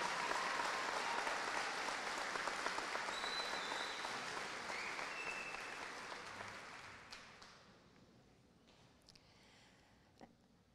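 Applause at a high school commencement for members of the graduating class of 2022; broad, steady clapping from a large crowd that fades away gradually over the last few seconds, leaving near quiet with a faint knock.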